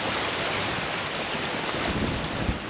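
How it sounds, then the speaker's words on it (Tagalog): Sea waves wash steadily against a shore at a fishing spot, a loud, continuous broadband roar with wind buffeting the microphone and no voices. "Ayan yung dagat."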